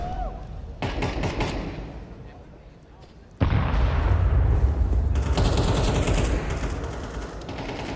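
Counter-Strike gunfire during a professional esports match, bursts of rapid shots and booms with a dense barrage in the second half, heard under overlapping background speech.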